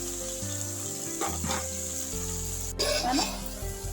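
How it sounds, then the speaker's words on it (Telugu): Okra and tomato fry in a pan with onion for a home-style okra pulusu, giving a continuous close sizzle with a few scraping stirs partway through and no voices. "టమాటా, బెండకాయ ఇవన్నీ 1 నిమిషం ఫ్రై చేద్దాం."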